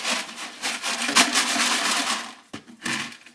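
Dry Cheerios rattling inside a plastic milk jug stall toy for horses, shaken in quick bursts of crisp, close rattling with a brief pause before two final shakes.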